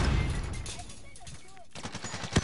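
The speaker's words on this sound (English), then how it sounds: "I shot him! I shot him!" Gunshots ring out in a video game as a quick cluster of sharp cracks, with excited voices talking over the firefight.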